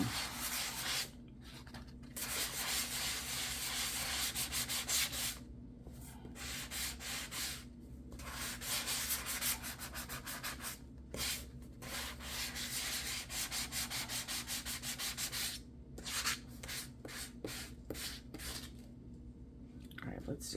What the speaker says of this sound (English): so let's just sand them both